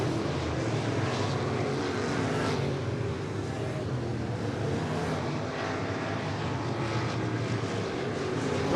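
IMCA Modified race cars circle the Sunset Speedway Park oval, a steady, broad engine roar from the field that holds for the whole stretch with little rise or fall.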